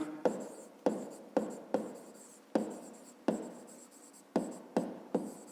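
A pen scratches on paper in short, separate strokes, each one a crisp scrape that fades out, during a fifth-grade maths exercise. The strokes are close and fairly quiet, with near silence between them.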